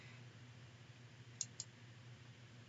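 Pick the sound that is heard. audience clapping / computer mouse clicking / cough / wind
computer mouse clicking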